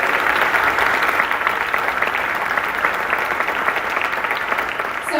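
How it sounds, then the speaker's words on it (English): An audience at a youth symphony summer concert claps steadily and loudly for the coaching musicians, a dense, even wash of applause with no speech. "Let's have a round of applause, please."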